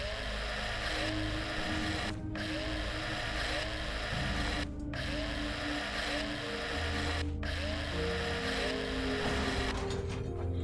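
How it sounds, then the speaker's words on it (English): A drill runs in the space-survival game Breathedge, giving a steady, dense mechanical grinding drone with a few brief dropouts. No one speaks. "And there goes the drill."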